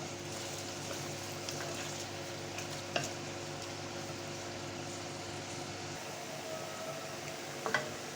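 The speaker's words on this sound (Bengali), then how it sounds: "পেঁয়াজটা বাদামি কালার হয়ে আসছে।" Round-sliced onions with whole dried chillies fry in a pan until brown, a steady soft sizzle with occasional light stirring clinks, heard close and without speech.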